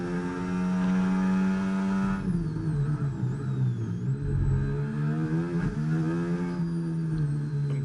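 A race car sets off on its first lap of the day, its engine droning loud and steady with a revving pitch swing midway, close and continuous.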